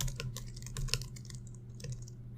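Code being typed on a computer keyboard: a quick, uneven patter of close key clicks with short pauses, over a low steady hum and no talking.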